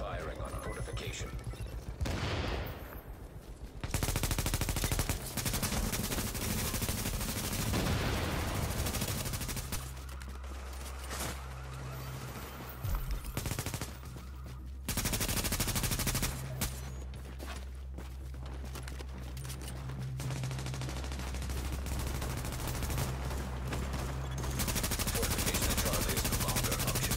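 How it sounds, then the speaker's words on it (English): Sustained in-game gunfire and explosive bursts from missiles striking a fortification in The Division, loud and dense with rapid automatic bursts and heavy low rumble throughout, briefly dropping out before resuming; faint voices sit under the barrage. "Missiles are firing on a fortification."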